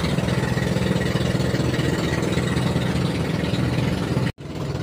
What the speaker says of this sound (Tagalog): Dahan-dahan lang yung takbo ng makina.